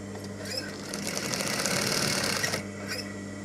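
A sewing machine stitches pleated tablecloth fabric in one continuous, fairly close run of about two seconds, with a softer motor hum before and after.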